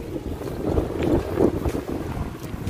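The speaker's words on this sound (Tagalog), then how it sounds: "Lakas ng hangin." Heavy wind blasts across the microphone on a rough road, a loud constant rumbling roar with gusty surges.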